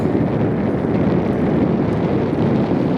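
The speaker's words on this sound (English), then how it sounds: "It's pretty windy when you ride as fast as I do" Constant loud wind buffeting the microphone while riding a bike fast, a dense rumbling roar with no pauses, rushing along at speed outdoors.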